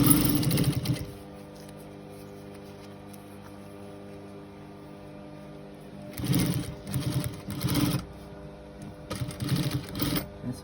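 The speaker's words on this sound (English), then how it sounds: "This is what you call sewing with one hand." Sewing machine stitching a cushion, a brief burst of whirring stitches at the start, then a pause with low hum, followed by two more loud runs of rapid mechanical stitching near the end.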